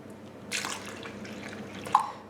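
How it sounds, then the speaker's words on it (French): Milk poured little by little into crêpe batter while it is being mixed, heard as faint liquid splashing and stirring sounds, with a brief louder pour near the start and a small drip near the end. "Je rajoute le lait. Petit à petit tout en mélangeant."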